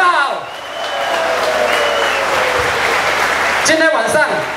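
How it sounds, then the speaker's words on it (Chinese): Crowd applause at a political rally dinner, steady clapping that swells and holds for several seconds, with a voice over a loudspeaker briefly audible at the start and near the end. "给自己一个鼓励的掌声"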